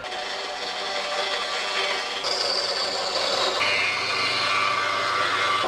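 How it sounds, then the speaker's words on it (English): A bandsaw cuts a wooden cheese board, making a continuous close rasping whine that shifts pitch partway through as the blade works through the wood, with no voices. "let's go over to the bandsaw and try and cut this out"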